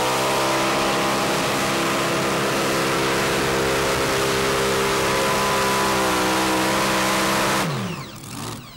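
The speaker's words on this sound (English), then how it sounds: "Few misfires there out of the power plant as well" A T-bucket pulling truck revs loud and steady at a tractor pull in Fairfield, Illinois, its engine roaring with rough misfire crackle before the sound drops and sweeps down near the end; no talking.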